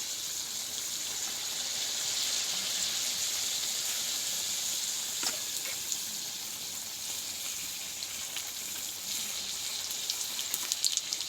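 Small fritters fry in plenty of oil in a wok, giving a faint, steady bubbling hiss with a few sharper pops near the end and no voices.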